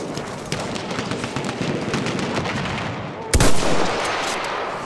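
Machine-gun fire in Battlefield 1 conquest infantry combat, a fast ongoing patter of gunfire followed by one louder, nearer burst and blast, with no talking over it.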